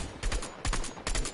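Gunfire in the video game Fortnite comes as three quick, loud bursts of rapid shots in close succession, each lasting a fraction of a second.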